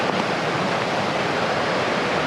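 Steady broadband rush of running water along the Papermill Trail in Lisbon, Maine, on a wintry day with ice forming on branches, continuous and close, with no voices.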